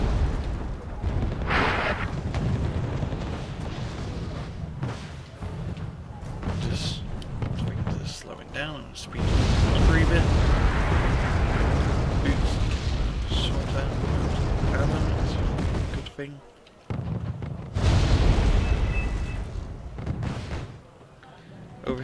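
Artillery shelling and explosions from the video game Wargame Airland Battle pound on continuously, with heavy booms and rumbling blasts dense in the middle stretch and again near the end, as a voice talks over them.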